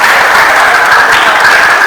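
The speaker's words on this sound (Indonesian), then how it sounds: "Nah, tepuk tangan nih, ini bahagia" A short burst of dense, loud audience applause, steady and close, filling the whole moment without a break.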